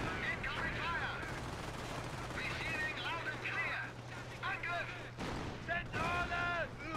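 Video game battle gunfire, with bursts of shots and distant rattling weapons under overlapping talk, fairly faint in the mix.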